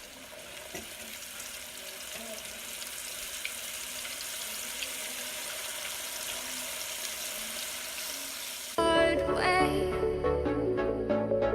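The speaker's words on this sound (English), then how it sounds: "That oil is hot and it is ready." A constant crackling hiss of hot oil sizzles for several seconds, then music suddenly cuts in and takes over.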